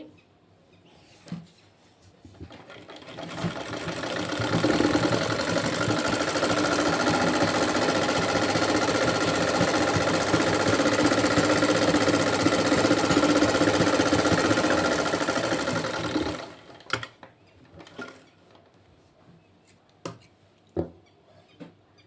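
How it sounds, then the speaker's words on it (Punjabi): A sewing machine runs steadily for about twelve seconds, stitching the fitting seam of a sleeve cuff, starting and stopping cleanly with a few soft handling clicks before and after and no talking. "ਇਹ ਆਪਾਂ ਇਹਦੀ ਸਲਾਈ ਲਾ ਰਹੇ ਹਾਂ ਫਿਟਿੰਗ ਵਾਲੀ"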